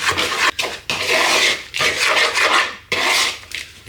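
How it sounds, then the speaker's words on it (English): A spoon scrapes and rubs cookie crumbs around a bowl in repeated raspy strokes, each lasting about a second with brief pauses between, close and fairly loud. "grab it, mix it round with your spoon"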